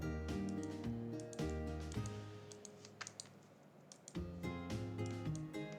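Computer keyboard keys are pressed in a few clustered taps, quiet and close, over a continuous tonal background drone; no speech.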